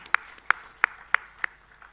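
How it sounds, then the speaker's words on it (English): A single person claps five times at a slow, even pace, crisp and fairly close, rather than the full applause expected for the house band at an arts season launch evening. "Another round of applause for our house band"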